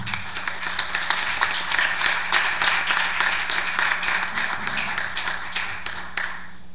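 Audience applauding at a public forum on the family institution in Mexico, a dense, steady burst of many hands clapping that fades away at the end.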